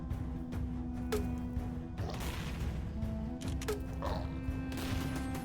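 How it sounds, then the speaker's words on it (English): A handheld cannon firing in the co-op party crawler game DuneCrawl, two heavy bursts of blasts about two seconds apart over a low, constant game hum. "So it's literally a cannon that you can hold in your hands."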